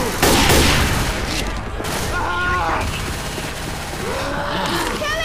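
Dense, continuous gunfire from a Left 4 Dead 2 zombie fight, loud and close, with overlapping bursts and booms while shouted voices talk over the shooting throughout.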